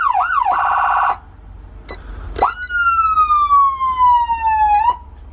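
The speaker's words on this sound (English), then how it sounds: "Okay, so then we got all the sirens down here." A loud police siren cycles through yelp and wail tones, then a long descending electronic wail, close and piercing.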